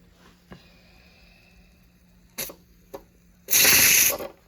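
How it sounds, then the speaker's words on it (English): A short hard hiss of steam bursts from a pressure canner for about a second after a few faint clicks and taps. "Once the steam is released, turn the lid and open the lid."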